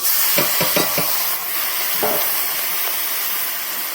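Shrimp tipped into hot oil with turmeric, giving a steady close sizzle and hiss with a few bursts of stirring clatter early on, no talk.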